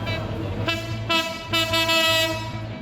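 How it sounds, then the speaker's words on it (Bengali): A train arrives at a station in Bangladesh, rumbling nearby with a sustained, loud horn blaring over the heavy low engine drone, no voices. "আমাদের ট্রেন চলে এসেছে"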